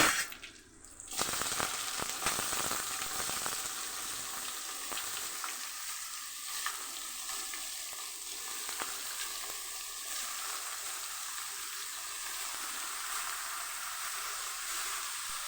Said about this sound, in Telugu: ఇప్పుడు మనం కట్ చేసి పెట్టి కసపు తీసి పెట్టాం కదా కాకరకాయ అవి వేసేసుకోవాలి